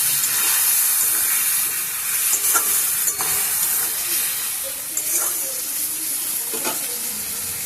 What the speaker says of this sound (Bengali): এটা এবারে ভালো করে আমি কষাতে থাকবো যতক্ষণ না কড়াই থেকে তেল ছেড়ে আসে।